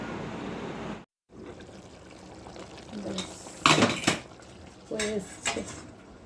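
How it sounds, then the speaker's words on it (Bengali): Steel dishes and spoons at an outdoor tap, a brief break, then a few sharp metallic clinks and clatters mixed with running, trickling water, close and fairly loud. "কলপাড়ে এখন টুকটুক করে বাসন জড়ো হচ্ছে"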